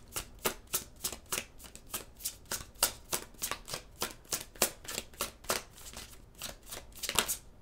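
Tarot cards being shuffled by hand, a steady run of crisp riffling bursts about two per second, close and fairly quiet, with no talking.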